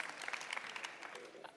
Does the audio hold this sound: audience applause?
yes